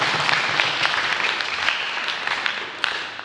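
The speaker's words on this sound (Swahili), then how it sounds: "Hebu tujipatie makofi." A crowd at a youth conference in Rorya, Tanzania, applauding with dense, sustained clapping that stays strong throughout.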